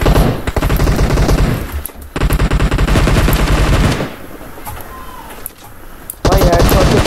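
Rapid automatic gunfire from a zombie-mode shooter game, with dense loud bursts cutting in and out alongside faint talk.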